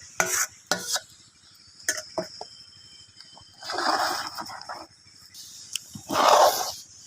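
Rice flour is stirred and dry-fried in a pan until red for a coconut-substitute pitha filling, with scraping utensil strokes and clinks, then soft sizzling bursts in a quiet kitchen.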